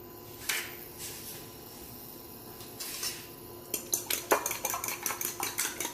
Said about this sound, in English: We are just going to scramble the egg, cook it as a scrambled